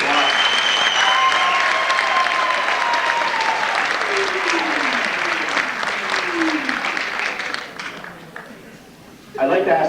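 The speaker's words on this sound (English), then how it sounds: "each gentleman deserve a big round of applause" An audience at a fall sports awards ceremony gives a loud round of sustained applause, with scattered whoops and shouts. The clapping thins and fades near the end before a brief burst returns.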